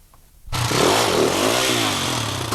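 Enduro motorcycle at the 1995 British Enduro Championship's Raider two-day round, its engine kicking in suddenly and then revving loud and close, pitch rising and wavering as it pulls away.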